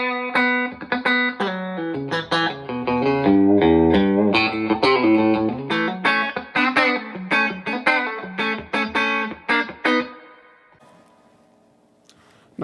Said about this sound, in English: most of the time you don't think of a Jazzmaster as a good chicken picking instrument